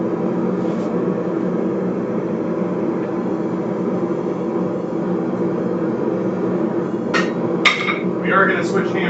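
A hammer strikes metal while a drop point hunting knife is forged, with a few sharp ringing blows late on over a steady droning background.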